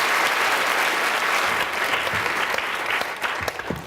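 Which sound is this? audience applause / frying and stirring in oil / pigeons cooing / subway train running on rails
audience applause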